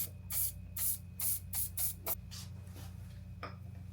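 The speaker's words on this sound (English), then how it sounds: "I'm gonna take this HCB1. It's a corrosive barrier, and I'm just gonna coat the inside of the steer tube" HCB1 corrosion barrier sprays from an aerosol can into the steer tube of an electric dirt bike during a fork install, in a string of short, quiet hissing bursts, about six evenly spaced and then a few looser ones.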